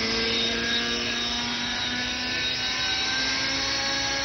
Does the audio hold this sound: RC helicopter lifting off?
yes